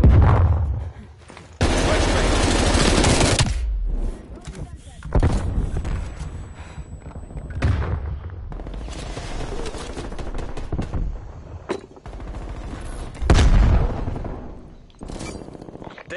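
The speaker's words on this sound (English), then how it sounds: "Frag out. Throwing Semtex. Incoming. Flashbang." Grenade, Semtex and flashbang explosions amid heavy gunfire in a multiplayer shooter match: loud sustained bursts of automatic fire and booming blasts in several waves, with game voice callouts heard between them.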